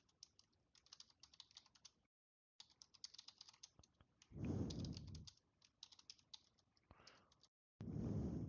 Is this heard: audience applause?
no